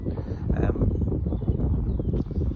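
Steady low rumbling wind buffeting a microphone outdoors, loud and continuous throughout with no clear voices.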